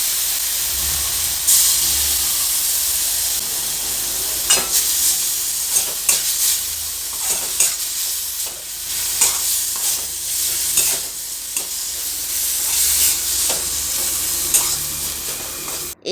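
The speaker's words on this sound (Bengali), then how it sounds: "এই মশলাটা ভাজার পর যখন কাঁচা গন্ধটা চলে যাবে" Ground spice paste fries in a pan with a steady, loud sizzle and hiss, broken by repeated scraping stirs at irregular intervals, heard up close with no voices.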